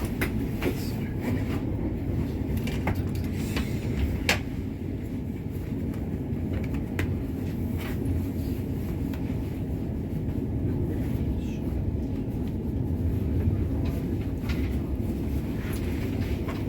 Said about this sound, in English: This is a Southern Class 377